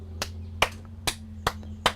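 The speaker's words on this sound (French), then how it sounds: "J'applaudis." Five sharp, single hand claps in an even, slow rhythm, close and distinct against a quiet room with a low steady hum.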